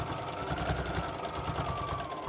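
Domestic sewing machine back-stitching along a quarter-inch seam on a cotton face mask, a continuous close, even whirring hum with fine rapid needle ticks throughout.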